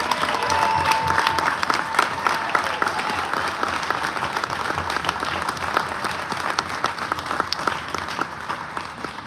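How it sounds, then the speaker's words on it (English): Large crowd of passengers applauding Vietnam veterans at a tribute aboard the Odyssey of the Seas cruise ship, a steady dense wash of clapping that stays loud and continuous throughout. "Can we get a huge round of applause for all of our Vietnam vets?"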